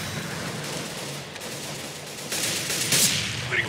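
Gunfire in a shooting video game, a dense patter of distant shots at low level, rising in a louder burst near the end.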